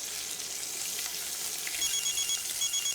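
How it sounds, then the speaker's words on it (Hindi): A phone rings with faint, repeated electronic tones over a steady sizzling hiss, as if food were frying nearby. "फोन आ रहा है तेरा?"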